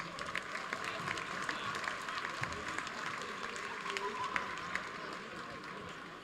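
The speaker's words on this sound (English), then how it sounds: "Let's have a round of applause for Miles Haynes." A crowd at a boys high school basketball game applauds steadily during player introductions, a continuous, fairly distant patter of clapping in a reverberant gym with murmuring voices mixed in.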